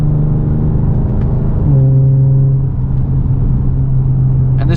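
A 2015 Lexus GS350 F Sport sedan's engine hums steadily while driving, its drone shifting to a new pitch partway through as the car changes speed, loud and close from inside the cabin.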